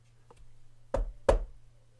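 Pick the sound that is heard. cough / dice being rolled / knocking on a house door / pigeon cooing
knocking on a house door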